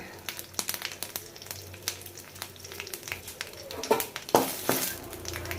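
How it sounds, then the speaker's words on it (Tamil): Mustard seeds, curry leaves and asafoetida crackle in sesame oil, with quick irregular pops spread throughout and a louder burst of spattering near the end. "அதில் எண்ணெய் ஊற்றிருக்கிறோம் நல்லெண்ணெய் தான் கொஞ்சோண்டு கடுகு போட்டுக்கலாம் கொஞ்சம் கருவேப்பிலை கொஞ்சம் பெருங்காயம்"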